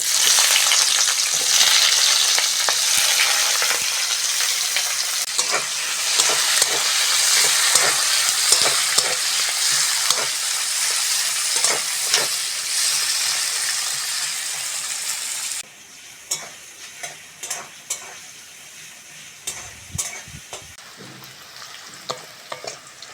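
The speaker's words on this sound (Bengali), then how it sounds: "তেলের মধ্যে প্রথমে পেঁয়াজ কুচনাটা দিয়ে দেবো" Chopped onion fries in a little oil in a wok, a loud, dense, steady sizzle with scattered stirring scrapes and clicks. The hiss drops noticeably quieter about two-thirds of the way through, and no voices are heard.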